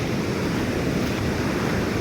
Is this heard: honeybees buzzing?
no